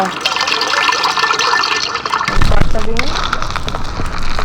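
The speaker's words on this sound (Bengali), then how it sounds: "আবার বালতিতে পানি ভরবো" Water pours into a bucket in the mobile survival game Craft Survival, a steady liquid filling sound with a louder gush starting midway, running continuously under talking.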